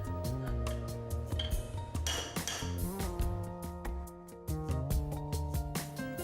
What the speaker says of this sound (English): If the bearings do not insert smoothly, tap them with a chisel.